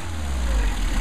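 Mercedes 190SL carburetted engine idling slightly high during a carburettor test, a steady low rumble heard close and alone for about a second.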